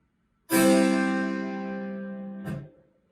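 A sampled harpsichord chord rings out with rich, bright overtones, then a short mechanical click sounds at the release near the end, alone with no talk.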